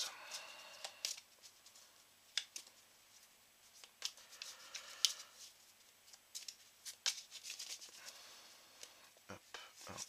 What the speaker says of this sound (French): Et on va piocher 20 cartes.